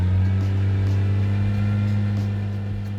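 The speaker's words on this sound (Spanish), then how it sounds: "Vamos a pisar un poquito más para que veáis qué ocurre. Vamos a aumentar las revoluciones un poquito más." Rotary-engine car held at raised revs around 3000 rpm, giving a steady loud droning hum with strong low tones that stays even and continuous throughout.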